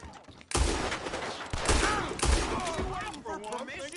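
Gunfire in the video game Red Dead Redemption 2: several loud shots and booming blasts in a short exchange, with game characters talking over and between them.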